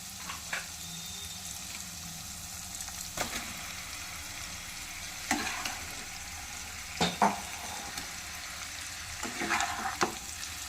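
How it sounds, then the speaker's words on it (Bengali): Marinated chicken frying in a cooked-down spice masala, a steady close sizzle broken by several scraping stirs of the spoon through the pan. "এবার আমি ম্যারিনেট করে রাখা চিকেনগুলোকে দিয়ে দিচ্ছি।"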